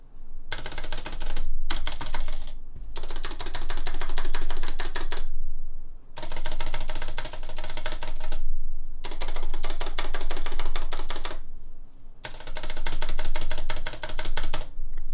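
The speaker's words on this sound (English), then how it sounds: "Tecsee stab has more of metallic rattle, while durock V1 has more of plastic rattle" Keyboard keys fitted with Tecsee and Durock V1 stabilizers pressed in rapid bursts, a dense loud clatter of rattly clicks in several runs separated by short pauses.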